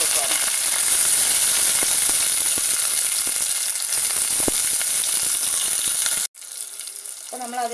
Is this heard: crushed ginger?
yes